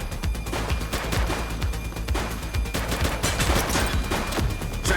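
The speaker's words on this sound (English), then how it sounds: "He's shooting!" Rapid bursts of automatic gunfire in The Precinct police video game, dense overlapping shots cracking loudly and continuously throughout.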